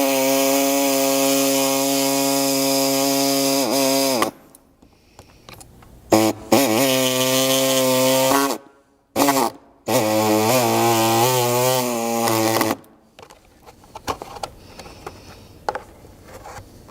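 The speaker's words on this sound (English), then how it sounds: "And then you'll simply cut out that rectangular portion" A power saw cuts a rectangular section from the flange of a 200 Series Land Cruiser bumper area, a loud steady whine in several long passes broken by short gaps, then quieter shuffling afterward.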